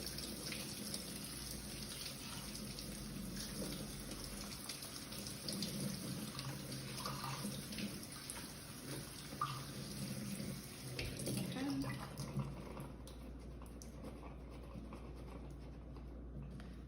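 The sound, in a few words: chickpeas being rinsed under running tap water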